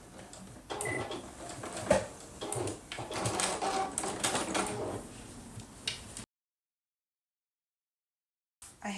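A sewing machine top stitches a fat-quarter windmill tote bag in short uneven bursts, ending in a back tack, then the sound cuts to silence.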